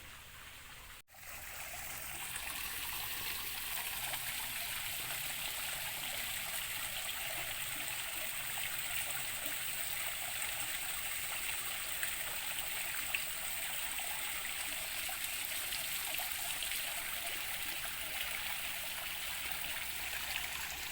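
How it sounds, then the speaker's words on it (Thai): A small waterfall trickles and patters steadily close by, a continuous bright wash of running and dripping water with no voices. "ยืนอยู่ตรงนี้ก็ได้ยินเสียงน้ำตกดังเปาะแปะเปาะแปะ"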